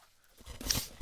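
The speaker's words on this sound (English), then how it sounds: "the dog was trying to eat my shoe" A dog makes a short burst of close, low grumbling noise while gnawing on a shoe, rising in the last half second after near silence.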